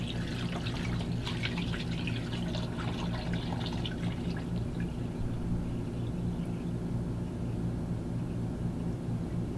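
Water pours into a pot around a jar set up for a water bath, a continuous close splashing trickle with dripping, bright in the opening seconds before settling into a softer flow.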